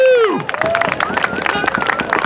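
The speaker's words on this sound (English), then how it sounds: "I think she needs a greater applause to come out." A crowd at a Lights for Liberty rally in Monterey, California claps and cheers in a dense, continuous burst of applause, mixed with whoops and a voice calling out over it.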